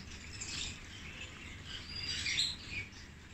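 Canaries and goldfinches in a home aviary at night give faint, scattered high chirps over a soft, steady insect-like background hiss.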